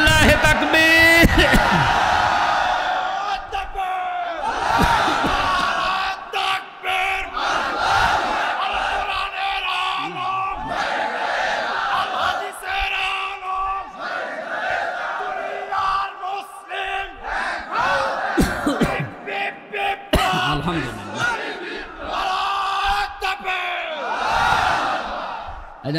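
Large crowd at an outdoor Islamic religious sermon gathering roaring in unison, loud repeated shouts rising and falling over about twenty-five seconds, with a voice calling out between the chants.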